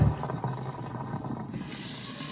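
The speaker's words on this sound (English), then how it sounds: "Just strain the rice." Water runs and splashes into a sink at low volume as rice is strained, a steady rushing flow with a slight shift in tone near the end.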